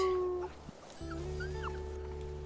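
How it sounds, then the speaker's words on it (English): In-game wolf vocalizations from WolfQuest, a rising then falling howl-like call with short whimpering yips, heard over a steady low game drone with a brief dropout midway. "Let's go ahead, we'll give a good howl"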